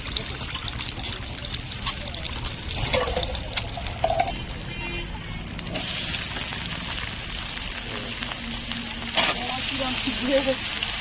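Onions dropped into hot oil hiss in a continuous, fairly loud sizzle with a pouring, splashy quality, holding steady for several seconds with small bursts partway through.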